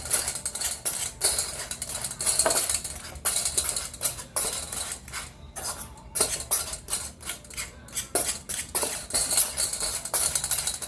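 A utensil mashes boiled egg yolks with seasoned salt in a bowl for deviled eggs. Repeated close scraping and clinking scratches on the dish come in uneven bursts with short pauses.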